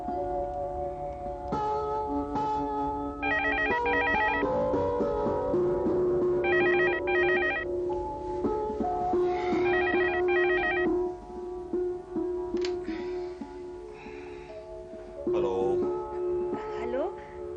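A telephone rings indoors with an electronic melodic ringtone, repeating in several bright bursts over a sustained background music score.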